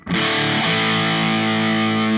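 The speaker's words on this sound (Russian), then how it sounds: "Немножечко все это дело подогреем бустером, например, вот D-Drive." A Mooer GTRS P800 electric guitar pushed through a D-Drive overdrive booster rings out a thick, distorted sustained chord, loud and close, holding steady after a brief strike with no talking.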